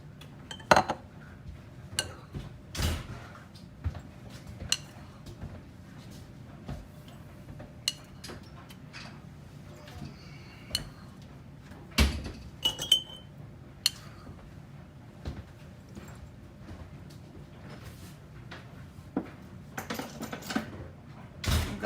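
Glass canning jars clink and tap repeatedly while a teaspoon of lemon juice goes into the bottom of each jar for home-canned peaches, giving sharp, irregular knocks and chinks close by with little talk.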